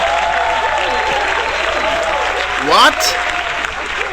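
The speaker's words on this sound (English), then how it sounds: "I can't believe you're cheering." A live comedy-show audience applauds and cheers loudly and continuously, with a brief spoken word from the performer partway through.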